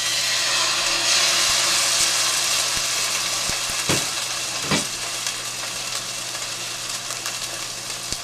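Chicken breast frying in a little olive oil in a pan, a loud steady hiss and sizzle throughout with a couple of soft clunks from the pan, no talking.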